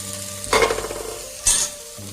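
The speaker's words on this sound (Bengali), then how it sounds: "পাঁচফোড়নটা ভাজা হয়ে গেছে এবার আমি আলুটা দিয়ে দেবো" Potatoes go into a pan with panch phoron and onion and start frying, with two bursts of sharp sizzling and stirring over a low background hum.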